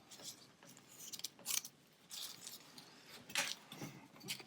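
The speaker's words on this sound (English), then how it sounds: "we're going to cut the brain in half." Scissors snip through a sheep brain during a dissection, cutting it in half along the longitudinal fissure; a few quiet, brief cuts and rubbing sounds come close up, with faint room noise between.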